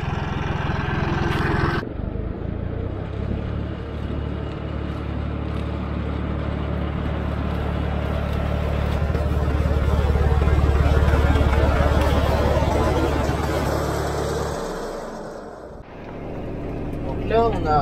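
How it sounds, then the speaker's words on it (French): A 2018 Massey Ferguson 3630V tractor engine drones steadily in a vineyard, a low continuous rumble that swells and fades slightly while a person talks. "Donc le tracteur, vous le connaissez, c'est le Massey Ferguson 3630V de 2018."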